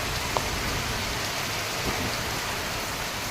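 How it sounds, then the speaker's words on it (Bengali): Heavy rain pours steadily in a dense, unbroken wash, driven by wind during a downpour after a long hot spell, loud and close with no voices. "আর এইদিকে দেখো খুব জোরে কিন্তু এখন বাতাসও দিচ্ছে আর বৃষ্টিও খুব হচ্ছে"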